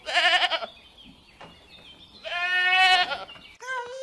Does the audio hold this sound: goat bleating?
yes